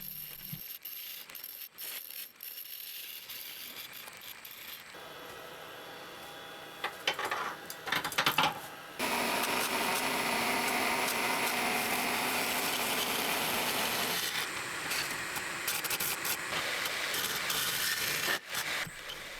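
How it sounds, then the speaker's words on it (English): Cutters hollow a coolibah burl and epoxy vase on a wood lathe, giving a steady scraping, rasping hiss in long passes broken by brief pauses and mechanical clicks. "I start the hollowing process with a straight cutter to open up the center."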